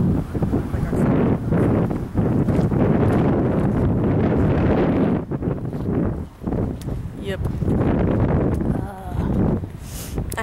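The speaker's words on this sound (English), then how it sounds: "It's a little bit nippy and a little bit windy" Loud, steady wind buffets the microphone on a mountain in Edinburgh, a dense roar that barely lets up, with a few short gaps.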